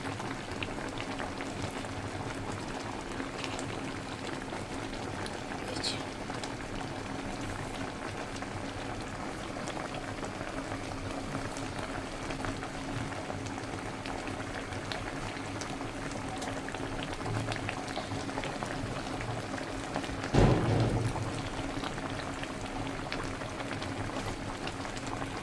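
Mango murabba sugar syrup bubbling and reducing in a pan, a steady dense crackle of boiling that fills the whole stretch at an even level, with one brief louder clatter near the end.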